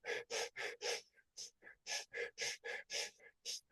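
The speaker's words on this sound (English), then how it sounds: "Fire breathe again." Rapid, forceful breath-of-fire breathing exercise: quick rhythmic nasal exhalations in a steady pulsing series, close and clear, with a short pause partway through.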